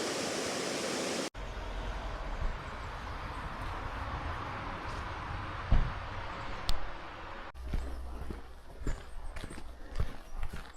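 Rushing water of a waterfall at Fairy Glen in Scotland, a steady broadband roar that fills the whole stretch with a brief break near the start and a few soft knocks later on.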